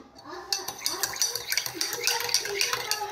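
A spoon stirs lemon sharbat in a glass, making quick, bright clinks and swirls against the glass that run steadily and close by for a few seconds, with faint household background behind.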